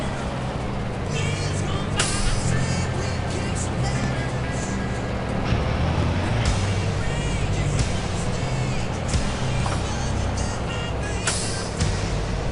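Truck air brakes hissing repeatedly while a heavy truck descends a winding downhill road in the game Hard Truck 2: King of the Road, sharp bursts recurring over a steady loud engine rumble, with no talk.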